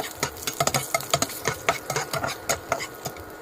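Garlic for adobong tahong frying in a hot pan, a close, busy run of sharp crackles and clatter with repeated stirring or spatula knocks against the metal, no voices present.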